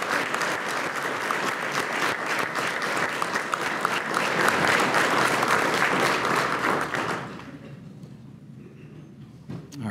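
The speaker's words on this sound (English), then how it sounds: "we please provide these students a round of applause for their willingness to discover their why. Now we clap for them." An audience at a school partnership breakfast claps for students, a dense, steady burst of applause lasting several seconds before stopping abruptly into near silence.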